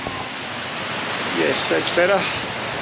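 Heavy pouring rain makes a dense, steady hiss of broad noise throughout, close and loud, while a voice speaks briefly over it in the middle.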